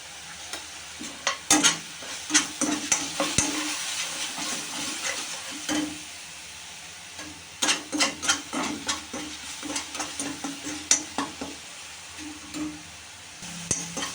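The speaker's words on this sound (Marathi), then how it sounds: "इथं लाल होईपर्यंत कांद्याला चांगलं परतून घ्यायचं" Onion sautés in a pan until reddish, a continuous sizzle punctuated by rhythmic bursts of scraping and stirring that pause briefly midway, then resume.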